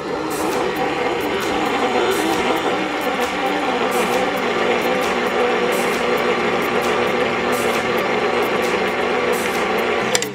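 An electric stand mixer whirs steadily and loudly as it beats thick fudgy brownie batter, a continuous mechanical drone with faint rhythmic ticking that stops abruptly at the end.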